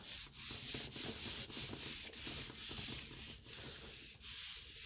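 Paint being rubbed hard through a stencil onto a gel plate, a close, steady scrubbing rasp in repeated strokes with brief gaps roughly every second, no voices.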